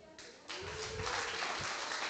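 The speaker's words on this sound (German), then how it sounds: "Euer Applaus für Annas Bild." An audience at a loscon24 prompt battle applauds a contestant's picture: a faint start swells into a steady wash of clapping that carries on to the end.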